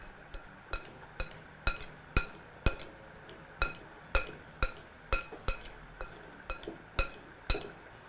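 Seasoned mutton tikka mix with black pepper and salt being stirred in a bowl, giving a steady run of sharp clinks of a utensil against the bowl, roughly two per second, close and fairly quiet.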